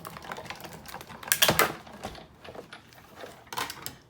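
A Big Shot die-cutting machine rolls cardstock through a steel rule die with a quick series of clicking, ratcheting crank sounds, louder around the middle and again near the end, close up.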